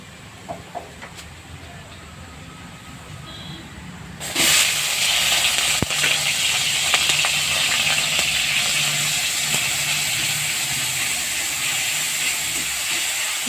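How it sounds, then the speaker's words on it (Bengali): Onion and garlic paste hits hot oil in a wok, setting off a sudden loud, steady sizzle and hiss that starts partway through and continues to the end after a quiet start. "তেল গরম হলে পেঁয়াজ রসুন বাটাটা দিয়ে দেবো"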